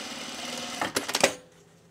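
A sewing machine stitches fabric in a short quick burst of a few rapid clacking stitches, close and fairly loud, then stops and the room falls quiet.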